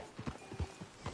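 Horse hooves clip-clop in Red Dead Redemption 2, a short run of several moderate, rhythmic thuds close by with no talk over them.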